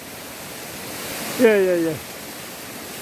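A waterfall about 10 m high pours over large rocks beside Iljuam on a summer hiking trail. Its steady broadband rush fills the scene, and a voice speaks briefly over it.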